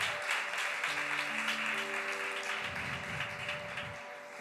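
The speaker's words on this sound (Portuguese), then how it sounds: "Aplauda o Senhor." A church congregation at a women's worship service applauds steadily for several seconds, a dense wash of clapping with sustained keyboard tones and low notes ringing underneath.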